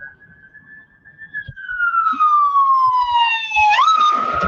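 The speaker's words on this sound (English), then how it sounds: "That's an ambulance." A passing ambulance siren wails, starting as a distant steady tone, swelling louder as it nears and sliding downward in pitch as it goes by, with faint street noise underneath.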